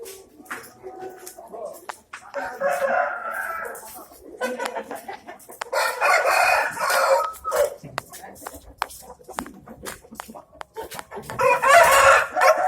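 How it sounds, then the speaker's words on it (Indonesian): Chickens and a rooster in a farm chicken coop, with repeated loud crowing and clucking close by, interleaved with people talking. "Kita akan cek satu-satu ayamnya"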